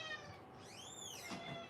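A pet cat meows indoors in a quiet room during a jewelry-making craft session: one drawn-out, rising and falling meow, faint and somewhat distant, with no talking over it.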